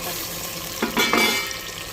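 Onions, green chilies and curry leaves frying in a pan for a Tamil kuzhambu, with a steady hiss and a short stirring scrape close by.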